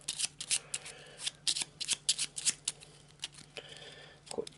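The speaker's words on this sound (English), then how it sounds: "give it a quick shuffle" A deck of cards being shuffled during an Eldritch Horror board game, a series of quick riffling bursts close to the microphone with short pauses between them, and a brief rustle at the end.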